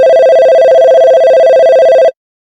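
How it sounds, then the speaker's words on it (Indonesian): A telephone rings alone, a loud steady electronic tone with a bright buzzy edge lasting about two seconds before cutting off abruptly into silence. "Bentar ada telepon."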